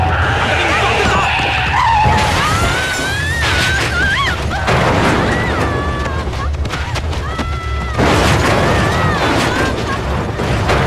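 Car tires skid and squeal under hard braking in a tense film scene, long wavering screeches rising and falling over a loud rumbling background with music, continuous and close for the whole stretch.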